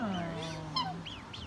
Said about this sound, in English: His is like a little squeak, and hers is like a little honk.